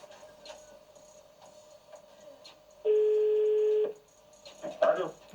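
A telephone line tones while someone calls a person back, with a long steady beep lasting about a second amid faint room noise and a voice near the end.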